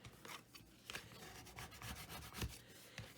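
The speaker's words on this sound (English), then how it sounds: "Burnishing always helps." Paper being burnished down onto a glued mixed-media folio, with soft close rubbing strokes in short repeated passes and light scratchy friction at low volume, without speech.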